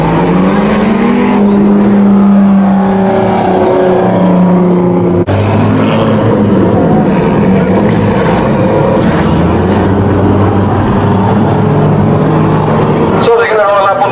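Superbanger racing cars circle the track on a lap, with engines droning and revving steadily, some nearer and some farther off, while a voice talks over them almost constantly.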